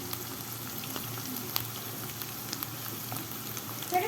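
Minced meat fries in a pan with butter, a steady close crackling sizzle with small pops and occasional stirring scrapes throughout, and no one talking.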